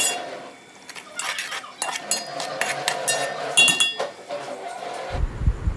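Softened tomatoes are stirred and roasted in a pot while making chicken yakhni pulao, with a spoon clinking and scraping against the metal in quick, irregular bursts, up close and with no voices.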